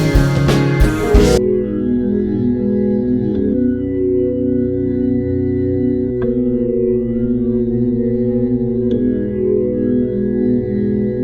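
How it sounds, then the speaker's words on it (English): A glass-like synth pad sits softly in the background of a progressive track, holding sustained, shimmering chords that swell gently after a brief, denser opening moment, with no voices. "We also ended up adding this little glass pad in the background, which sounds like this."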